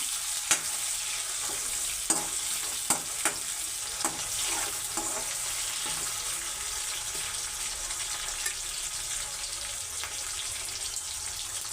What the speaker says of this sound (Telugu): ఆనియన్స్ మొత్తం కరివేపాకు మొత్తం వేసుకుంటే వేయించుకున్నాం బాగా ఫ్రై అవ్వనివ్వాలి